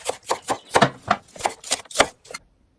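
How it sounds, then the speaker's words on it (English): A knife chopping an onion on a cutting board, about ten crisp, evenly spaced cuts up close, then quiet. "The first thing we do is chop the onion."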